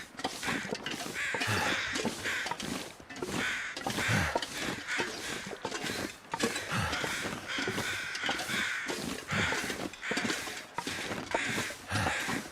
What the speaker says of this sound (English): I do wish those crows would give it up.